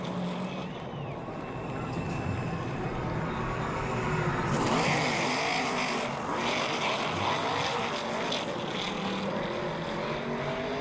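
An ARCA stock car passes the start-finish line at Daytona International Speedway in the Lucas Oil 200, its engine roaring loudly throughout and swelling as it goes by over continuous track and crowd noise.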